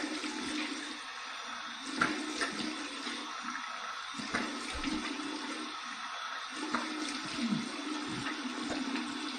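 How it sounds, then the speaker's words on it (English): Cold tap water splashes in a sink as a face is rinsed after a shave with a vintage Facon razor and Stirling soap, an ongoing running-water wash broken by several louder close splashes. "here is my cold water rinse"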